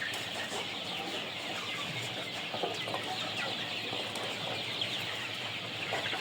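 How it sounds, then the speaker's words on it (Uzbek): A large flock of young vaccinated chicks, including some kept on netting, fills the space with a dense, constant mass of high chirps and soft clucks, with occasional wing flutters rising briefly out of the steady chatter. "Jo'jalar."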